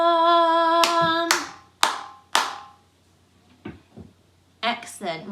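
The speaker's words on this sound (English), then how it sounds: "in the gaps between where we say green corn, we're clapping something" Hands clap sharply in rhythm in the gaps of a sung green corn chant during a school music lesson, four loud claps after a sustained sung note, then a pause and more singing voices.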